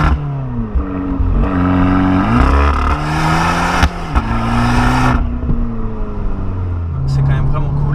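Abarth 595 Competizione hot hatch with an active exhaust, a steady loud rasping engine note that rises and falls through the revs, with speech over it.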